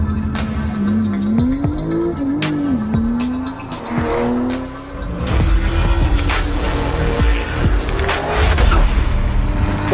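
A 650 HP Porsche 911 Turbo (991) with a 3.8-litre engine revs and accelerates loudly, its exhaust note rising and falling through gear changes, with tire noise underneath.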